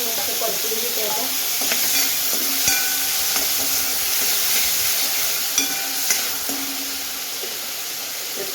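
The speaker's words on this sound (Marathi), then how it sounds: "कांदे आपण छान लाल होईपर्यंत परतून घेणार आहोत" Chopped, washed onions sauté in hot oil with cumin in a pan, browning steadily: a continuous close sizzle with occasional scrapes and taps of a stirring spoon throughout.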